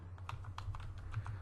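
Quick bursts of computer keyboard typing while entering BGP router configuration commands, close and fairly soft, a dozen or so keystrokes in uneven clusters over a low steady hum.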